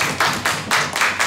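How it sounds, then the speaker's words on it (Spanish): A few sharp claps sound close by in an irregular rhythm, a brief burst of applause to see someone off on a television show. "despidamos con un fuerte aplauso a Joel González"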